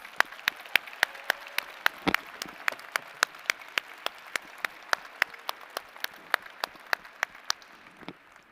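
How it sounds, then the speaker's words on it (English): An audience at a spring doctoral, MFA and medical degree commencement applauds the graduates with steady, sustained clapping from a large hall, plus a few sharper individual claps standing out. "Let's give them a big round of applause."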